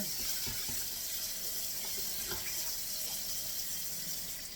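Water poured from a cup into a pot of rice on the stove, a steady close splashing stream running for several seconds with no voices over it.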